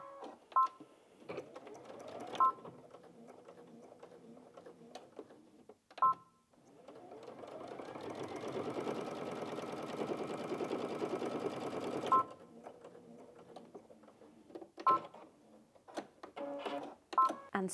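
A Brother Innov-is VQ2 sewing machine sews through eight folded layers of fabric at a slightly longer stitch length, running in one steady whir for several seconds, with short clicks and beeps from the machine before and after.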